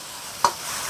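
Homemade chopped chili sauce stir-fried in rapeseed oil with ginger and scallion, giving a brief scrape of a spatula over a low, steady sizzle, close and fairly quiet, with no talk.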